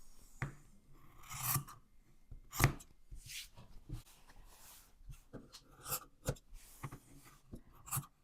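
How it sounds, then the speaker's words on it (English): Scissors snipping the corners of a quilted fabric bow, a string of sharp, close, quiet cuts and rustles spaced irregularly over several seconds with no talking. "Snip the corners."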